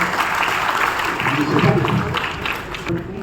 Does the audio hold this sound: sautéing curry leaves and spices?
no